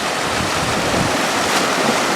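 Loud ocean waves wash continuously onto the San Cristobal Island shoreline in a steady surf roar, with some wind on the microphone and no voices.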